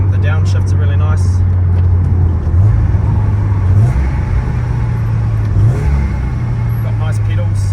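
A supercharged 2017 Subaru BRZ drones loudly up close while accelerating, its engine note dipping and jumping in short steps as it downshifts, with a voice faintly under it.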